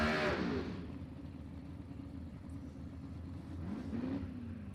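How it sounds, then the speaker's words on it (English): A VUSS Commodore race car with a small block engine and another race car rev at a 2022 Twilight Nationals qualifying meet. Two rising engine revs swell near the start and end, with a steadier engine rumble between them. "Listen to both these cars rev."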